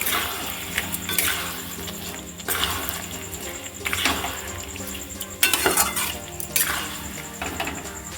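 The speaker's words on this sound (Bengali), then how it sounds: "সুন্দর করে আলু কচুটা কষিয়ে নেব।" Boiled potato and taro being stir-fried in a spice paste for a hilsa curry, with repeated scraping and clinking of a spatula against the pot over a soft sizzle, close and steady with brief louder strokes.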